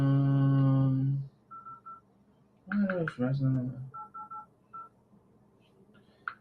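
Phone keypad tones while checking a phone link ring out as short, evenly spaced beeps in quick groups, clean and close, following a sung or spoken phrase and a burst of speech.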